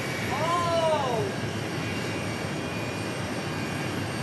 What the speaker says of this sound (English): I bet we might get a Northside takeoff here